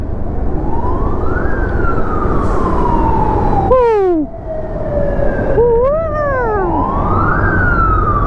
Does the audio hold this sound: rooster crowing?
no